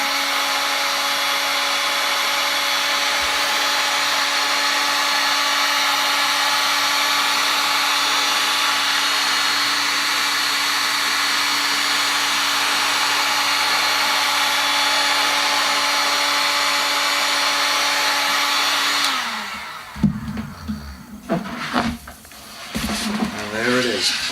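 A heat gun blows hot air onto the wrap of a drum shell, a loud steady whirring roar that runs for about twenty seconds before cutting off, followed by scraping and handling noises.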